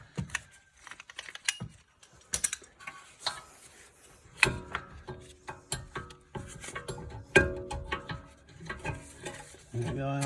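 Bolts fitted by hand during a rear brake pad replacement on an Audi A5, heard as a string of close, irregular metallic clicks, taps and rattles with brief scraping, no talk.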